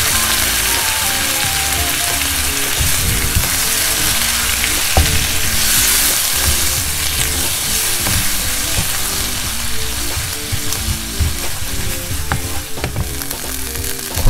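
Onions sizzle steadily in a hot pot, caramelizing for onion gratin soup, while a utensil stirs and scrapes through them, close and continuous, with no voices.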